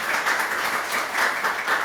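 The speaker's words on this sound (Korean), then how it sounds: "큰 박수 부탁드리겠습니다" An audience at a political youth lecture claps steadily, a dense, even patter of applause at moderate distance that continues without pause.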